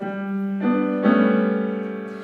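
A sustained dense chord of closely packed notes rings out, with more tones entering in stages as it swells and holds.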